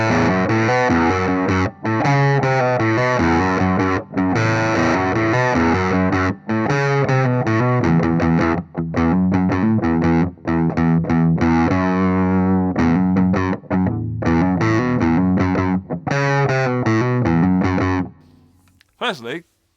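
Distorted electric guitar riff from a Harley Benton fitted with a hot P-90 pickup, a loud, busy run of picked notes that stops abruptly near the end and fades into a brief ringing tail.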